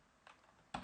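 Typing on a computer keyboard while entering a terminal command, two quick, faint clusters of key clicks close by.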